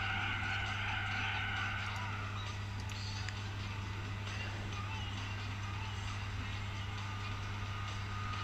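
Race cars in Gran Turismo 4 give a constant engine drone with tire skids and passing cars, heard steadily throughout while someone talks over it.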